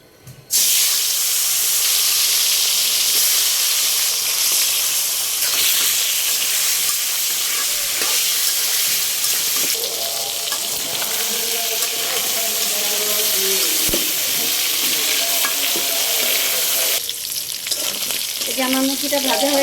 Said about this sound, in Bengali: এখন আমি প্রথমে মুরগিটা ভেজে নেব মশলা মাখিয়ে।